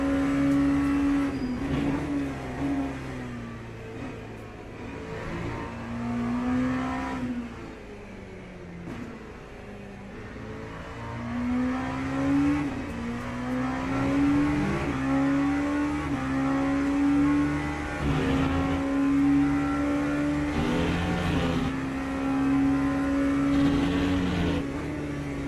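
Le Mans Ultimate race cars lap at the European Le Mans Series event, giving a sustained high engine drone with gear shifts and rising and falling revs as an LMP3 is overtaken, steady and close throughout.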